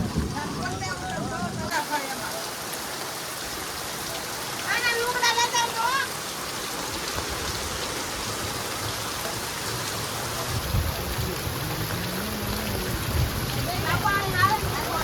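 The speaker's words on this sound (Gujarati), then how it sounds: "બહાર વરસાદ બસ બહાટી બોલાવે છે" Heavy rain falls steadily outdoors as a constant hiss of drops on surfaces, with faint brief sounds mixed in and no clear voice.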